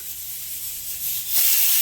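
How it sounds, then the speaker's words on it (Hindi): A steady sizzling hiss of onions frying in hot oil, growing louder and brighter toward the end before stopping abruptly. "प्याज फ्राई हो रही है तेल में"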